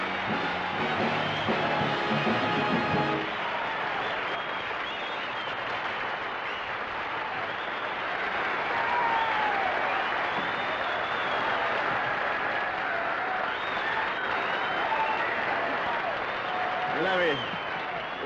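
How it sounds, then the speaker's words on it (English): A live USO Christmas show audience breaks into sustained applause mixed with whoops and cheers, loud and continuous, while a voice speaks over the crowd. "hold on to your pom-poms and try to control your cheering"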